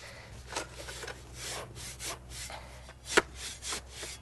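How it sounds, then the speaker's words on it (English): Garden tools such as a shovel are plunged into and pulled out of a bucket of oily sand, making a repeated gritty scraping and rubbing rhythm, with one sharper knock partway through. "Just plunge them in the sand a few times."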